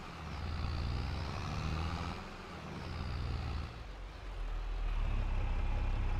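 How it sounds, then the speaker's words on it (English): Truck pulling two heavy trailers in a farming game moves forward slowly, its low engine rumble rising and falling steadily across the span with faint hissing and mechanical whine above. "Very slowly pull forward since I really don't have the braking I need to stop these two trailers."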